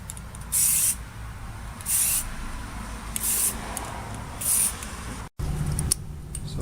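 Short spray-can bursts as light coats of paint go onto a 1967 Craftsman top tool box, four distinct hissing pulses about a second each with pauses between, close and fairly loud over a low background rumble, no talk.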